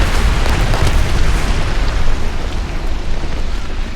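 Tank cannon fire and a shell impact on an E100 heavy tank in War Thunder, a loud, dense rumbling blast that stays heavy and boomy throughout with no talking.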